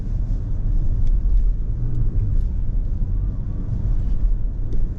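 2023 Toyota Crown Hybrid with a 2.5-litre naturally aspirated engine, engine braking with regenerative braking while driving: a steady low cabin rumble and drone heard from inside, continuous throughout.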